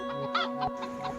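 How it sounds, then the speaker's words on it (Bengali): Cartoon farm fowl, ducks and chickens, clucking in a short burst of several quick calls, close and clear over a steady tonal background, with no talking. "আমার খামারে হাঁস মুরগিগুলো ঠিক আছে তো?"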